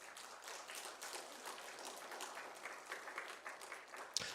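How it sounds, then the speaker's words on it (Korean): Church congregation applauding a member during a Sunday service: a quiet, steady patter of clapping from a modest crowd, fairly distant, with one sharper clap near the end. "박수 한번 해주십시오."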